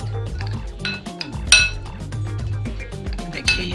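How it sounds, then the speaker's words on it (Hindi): A spoon clinks and scrapes against a bowl in quick, irregular strokes while spices for a fried chicken coating are stirred together, with bright metallic chinks up close and no talking. "अभी इन सबको मिक्स कर लेंगे अच्छे से।"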